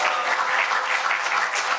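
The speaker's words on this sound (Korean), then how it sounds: "큰 박수 부탁드립니다" Brief burst of dense clapping from an Easter church audience at a Westminster Confession recitation contest, loud and continuous throughout with no speech.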